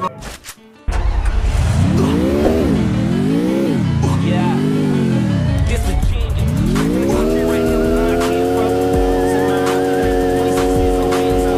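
A car in the video game Garena Free Fire starts up, revs in rising and falling sweeps with brief tire squeal, then settles into a steady, loud engine drone.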